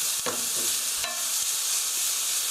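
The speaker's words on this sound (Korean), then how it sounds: "볶아주시고요." Ingredients stir-fried in a pan for a tofu sauce rice bowl, with a steady close sizzle and a few scraping stirs near the start and around the one-second mark.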